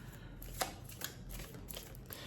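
Tarot cards shuffled by hand in a quiet room, giving soft, papery riffles and a few sharper slaps, moderately faint and close with no talk.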